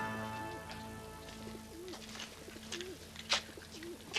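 Racing pigeons on the night before a big pigeon race coo repeatedly in soft, rolling phrases, steady and close, with faint rustling and other bird chirps around them.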